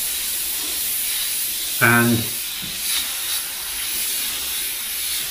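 An airbrush spraying thinned paint at 25 psi gives a steady, close hiss throughout, and someone briefly speaks over it.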